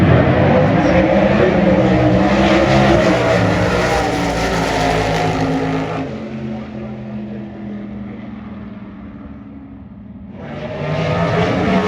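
A 1965 Plymouth muscle car with a naturally aspirated engine roars loudly and steadily on the Las Vegas Strip, easing off to a lower rumble midway before swelling again near the end.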